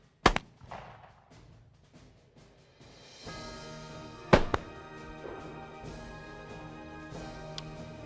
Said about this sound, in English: He now brings the weapon to full cock. Aim. Fire.